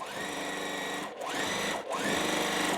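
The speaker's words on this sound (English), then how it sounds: "I'm gonna sew on to the other corner" A sewing machine stitches quilt block corners with a steady whirring run, briefly stopping twice before starting again, close and continuous with no voices.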